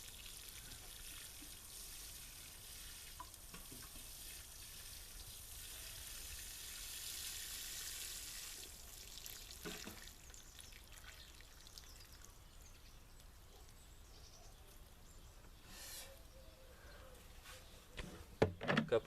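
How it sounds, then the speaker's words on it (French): A rose watering can sprinkles water into a furrow of freshly transplanted leeks, a soft steady hiss of spray that fades partway through, followed by a few light splashes and drips near the end. "Et on arrose bien dans le sillon."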